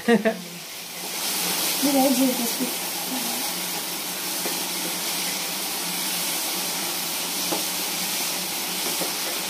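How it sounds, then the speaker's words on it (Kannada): Tomatoes fry in a pan until soft, giving a steady, close sizzle and hiss that runs throughout, with a voice speaking briefly near the start. "ಸಾಫ್ಟ್ ಆಗೋವರೆಗೂ ಫ್ರೈ ಮಾಡ್ಕೋಬೇಕು ಟೊಮೊಟೊನ"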